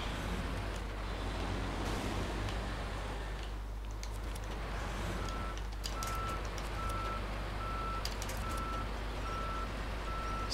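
A tractor driving off-road in SnowRunner, with a loud, constant engine drone joined by a regular series of electronic beeps in the second half.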